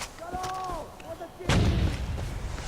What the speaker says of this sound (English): Oh yeah, there's mortars.